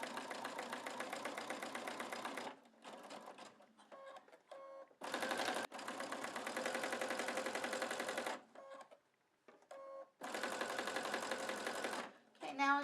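Sewing machine stitching a rope coil basket, fast rhythmic runs of stitching that start and stop in several bursts, close up, with short gaps of handling noise between runs.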